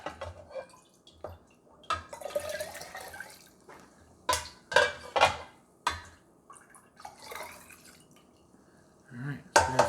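A cocktail mixture is poured into a glass jar at a camp setting, making intermittent close splashes and drips between bursts of talking.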